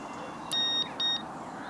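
Two electronic beeps from a carp fishing bite alarm at a lakeside swim as the line is clipped in, a longer tone followed by a shorter one, close and fairly loud over a low background hiss.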